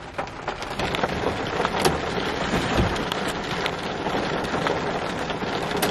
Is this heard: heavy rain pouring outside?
yes